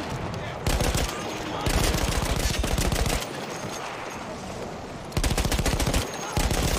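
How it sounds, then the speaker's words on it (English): Rapid machine gun fire in the World War I shooter Battlefield 1, long bursts of dense automatic shots with brief gaps between volleys, loud and close, with voices talking at times underneath. "At least they're mounting their machine guns."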